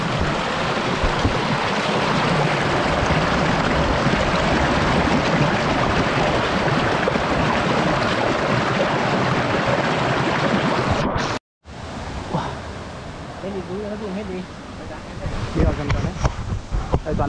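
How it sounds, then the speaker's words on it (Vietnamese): Water in a forest stream rushes as a continuous broadband wash mixed with wind. The sound cuts out briefly, then resumes more faintly, with some voices and rustling near the end. "Anh em mình đang đi dọc theo con suối này các bác nhá."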